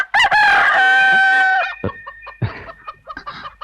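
A rooster crows loudly and close in one long call, then chickens give a series of short, scattered clucks.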